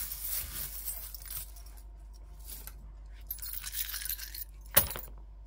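Small metal charms jangle and clink as they are handled close by, with soft scattered clatter throughout and one sharper metallic knock near the end.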